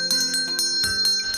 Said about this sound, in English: Now when that bell rings